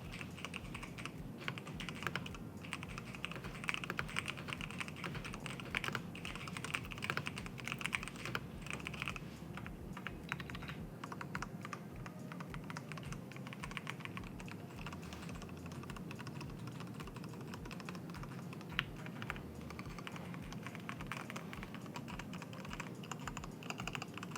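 Steady, rapid typing on a Ducky mechanical keyboard fitted with Cherry MX2A red linear switches, continuous close-up key clacks with no voices.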